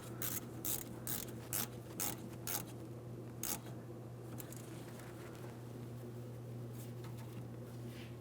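Hose clamp on the fuel pump module of a 2007-2014 GMC Sierra 2500 HD 6.0L V8 being snugged up, a burst of close ratcheting clicks at first, then only a steady low mechanical hum.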